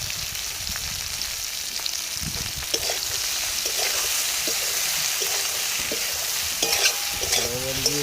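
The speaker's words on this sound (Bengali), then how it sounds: "লবণ দিয়ে একটু নেড়ে নিলাম" Young greens being stirred in a frying pan right after salt goes in, giving a steady close sizzle with soft scraping strokes and a few light clinks and no voices.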